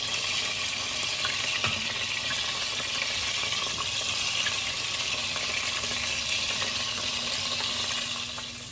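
Lamb meatballs sear in a hot frying pan over a moderate flame, giving a steady, close sizzle and crackle that holds evenly throughout without pause.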